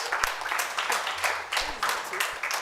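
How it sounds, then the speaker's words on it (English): A seminar audience at a business summit gives a round of applause, steady clapping in uneven waves, with some voices calling out through it. "Give her a round of applause."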